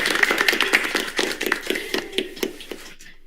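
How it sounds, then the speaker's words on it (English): A steady run of hand claps, about four per second, close and fairly crisp, fading out near the end, with a voice sounding faintly along at the start. "Clap, clap, clap, clap, clap,"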